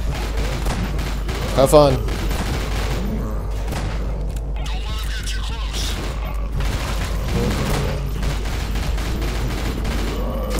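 Gunfire crackles in the first-person horror shooter Nightmare House 2, with bursts and booms recurring across the scene while voices talk over the shooting.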